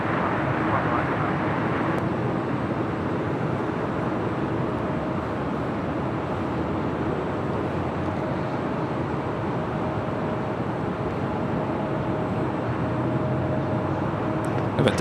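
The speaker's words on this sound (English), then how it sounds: "Still waiting on that United 757 to start rolling down." A United Boeing 757 at LAX runs its engines for takeoff, a loud steady roar that holds evenly throughout, heard from a distant rooftop vantage.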